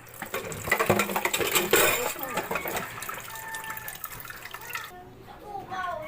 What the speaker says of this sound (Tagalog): lalagyan po niya ng konting tubig ang kanyang ice cold Milo